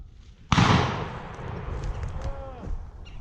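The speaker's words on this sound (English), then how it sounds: "that was like 10 gunshots" A single sharp, loud shotgun blast rings out during a pheasant hunt in an Indiana field, then fades into a quiet outdoor background.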